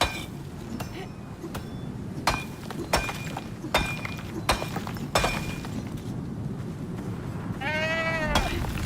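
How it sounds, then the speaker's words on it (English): A goat in the survival game Icarus gives a short wavering bleat near the end, following a series of sharp cracking impacts spaced across a low stormy rumble. "We scared the goat."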